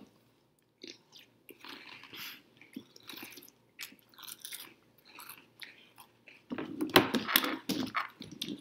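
A spoon crunches into Cap'n Crunch cereal with milk. Soft, scattered chewing and crunching starts the passage, then a louder, denser burst of crunching comes near the end. No one speaks.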